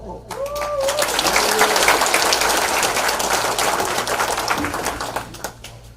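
Audience applause at an indoor political rally and security lecture held by a Houston Korean veterans' group, a burst of dense clapping that swells and then tapers off, with a voice briefly audible at the start.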